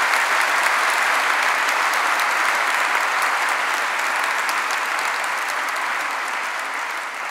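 A live audience applauds at the close of an on-stage conversation event, a dense, steady wash of clapping that stays loud throughout and fades slightly toward the end, with no talk over it.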